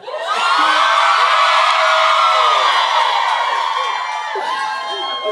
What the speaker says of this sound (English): But if you cheer loud enough, it can be 7.